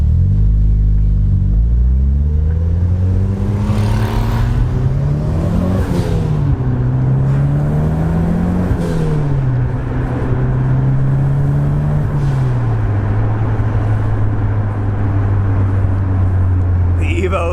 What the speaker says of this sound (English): Evo is running good. It is running good, pulling good.